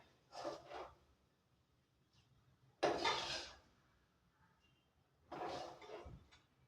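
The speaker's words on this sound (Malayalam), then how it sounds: "ഫ്ലെയിം ഓഫ് ചെയ്തിട്ട് നമുക്ക് ഇത് പാത്രത്തിലേക്ക് മാറ്റാം" Home-style prawn masala is scraped from a pan into a dish in three separate bursts of utensil scraping and clatter, close and fairly quiet, with near silence between them.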